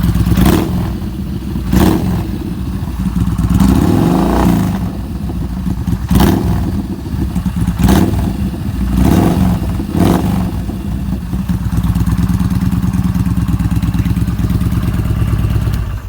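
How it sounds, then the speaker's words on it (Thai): A Yamaha Bolt R motorcycle in club style trim idles loudly nearby, with about six sharp throttle blips rising and falling over a steady rumble, and no talking. "เดี๋ยวเราลองเบิ้ลนะฮะ"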